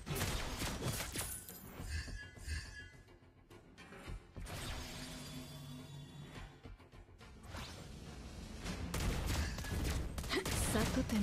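Lesley's sniper shots in the Mobile Legends game ring out among whooshing skill effects and crashing hits, loud and busy in bursts, with a speaking voice running over much of it.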